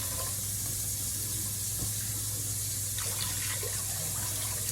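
Water pouring into a soup pot in a home kitchen for loaded potato soup, a steady, even hiss and splash with a low hum beneath, close and continuous.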